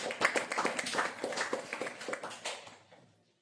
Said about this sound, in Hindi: एक बार जोरदार तालियां हो जाए अंश और संजय के लिए।